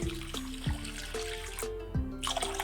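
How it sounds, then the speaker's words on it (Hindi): Two glasses of room-temperature water poured into jaggery while making homemade sugarcane juice, a steady close trickle and splash with small drips, running alone for a few seconds. "अब इसमें 2 गिलास पानी का ऐड करेंगे।"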